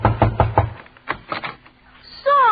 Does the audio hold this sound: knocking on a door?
yes